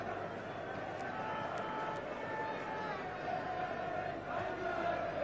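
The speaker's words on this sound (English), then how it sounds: "Forrest have been absent from Europe for 11 years, and the crowd enjoying being back." Football stadium crowd at a European match involving Nottingham Forest, a dense, continuous roar and murmur of spectators filling the background beneath a commentator's voice.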